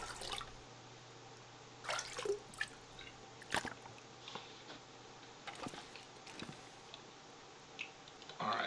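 Water being collected from a toilet in the video game The Long Dark, quiet scattered drips and liquid splashes arriving in irregular bursts against near silence.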